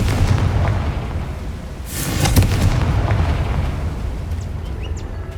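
A Confringo fire spell explodes in Hogwarts Legacy with a deep rumbling boom over dense, loud game ambience, swelling briefly in the middle before settling back into a low roar.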